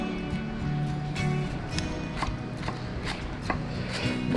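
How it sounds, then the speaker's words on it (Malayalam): A knife chops coriander leaves on a board in quick, uneven strokes, a run of close, crisp taps over steady faint background hum, with no talking. "ഇനി നമുക്ക് നമ്മുടെ ഈ മല്ലിച്ചപ്പൊന്ന് അരിഞ്ഞെടുക്കാം."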